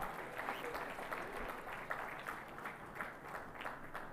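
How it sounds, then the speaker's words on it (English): Applause from the audience at India Maritime Week 2025 as a set of three IIT Bombay MOUs is acknowledged, a steady moderate patter of clapping held at an even level throughout, slightly distant in the hall. "I believe it deserves a huge round of applause before we move on."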